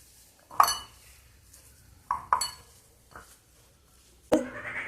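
Radish paratha filling mixed with coriander leaves in a bowl, heard as a handful of distinct utensil clinks and scrapes against the dish with quiet gaps between them.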